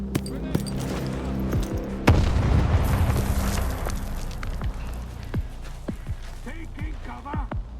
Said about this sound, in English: Brothers, I'm throwing a grenade!